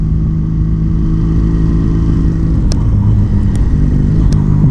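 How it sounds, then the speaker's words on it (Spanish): A motorcycle rumbles along on a road ride, its engine drone loud, steady and close throughout, with a few faint sharp clicks and no voices. "menos a mí, que prefiero salir en moto"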